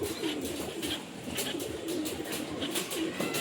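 Pigeons coo softly and repeatedly over a steady, busy background hiss, with a few faint chirps mixed in.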